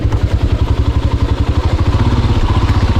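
A motorcycle engine runs close and loud on a trail near Subrahmanya, its steady rapid thumping pulse holding at a low idle-like beat for a few seconds.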